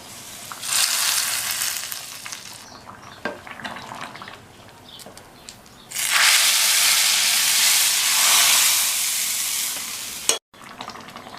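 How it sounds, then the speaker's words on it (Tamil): Onion and garlic sizzle loudly in hot oil for a sambar tempering, with two long bursts of hissing fry and quieter stirring scrapes between them. "இந்த வெங்காயமும் பூண்டும் நல்லா சிவந்து வர வரைக்கும் வதக்கிக்கணும்"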